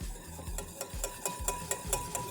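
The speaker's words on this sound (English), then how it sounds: "And whisk it until smooth." A whisk beats xanthan gum into a homemade natural shampoo in a bowl, producing a steady rhythm of close, scraping strokes about four per second.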